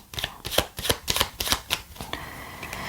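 Tarot cards are shuffled by hand for an advice reading, about a dozen crisp riffling bursts in quick uneven rhythm, close and fairly quiet, with no voices.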